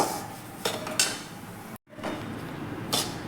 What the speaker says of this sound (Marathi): रवा आपण परतायला सुरुवात करायची आहे गॅस अजिबात मोठा करायचा नाही मीडियम गॅसवरती आपल्याला रवा छान असा आपला खरपूस भाजून घ्यायचा आहे